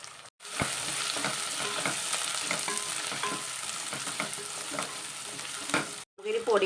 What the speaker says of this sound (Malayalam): ഈ ഉള്ളിയുടെ കൂടെ ഒന്ന് വഴറ്റിയിട്ട് വേണം നമുക്ക് കറി വയ്ക്കാനായിട്ട്